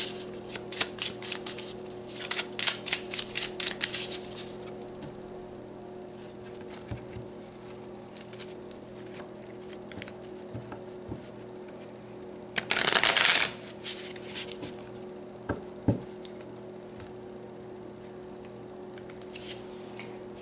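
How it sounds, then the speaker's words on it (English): Tarot cards being shuffled by hand, a quick run of crisp riffling flutters at the start followed by softer sporadic shuffles and a brief louder burst, close up and with no talking. "let's pull some more cards"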